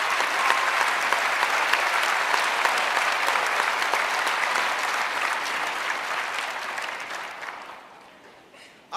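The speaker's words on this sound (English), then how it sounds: "Let's give him a round of applause." Audience at a sports hall of fame induction ceremony breaking into sustained applause, a thick roar of many hands clapping evenly for several seconds before thinning and fading out.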